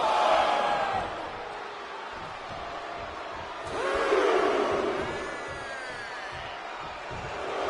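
Arena crowd cheering in a WWE 2K24 wrestling match at NXT Heatwave 2023, a steady roar that swells twice, loudest near the start and again midway, with a few whoops rising above it.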